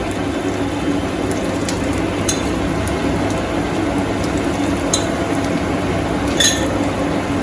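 Egg bhujia mixed in a kadai while it fries, giving a steady close sizzle with faint scraping and clinks of the spoon against the pan.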